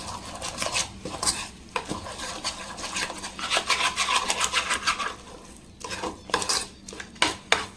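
A spoon scrapes and stirs a thick yogurt marinade for butter paneer chilli roast in a bowl, giving steady rasping, clinking strokes close up with short pauses, no talking.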